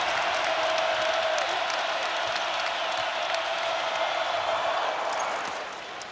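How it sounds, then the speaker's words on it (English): A basketball arena crowd at a college game between Iowa State and Kansas roars and cheers in a steady, loud, dense wash of noise that eases off near the end. "And the crowd on its feet"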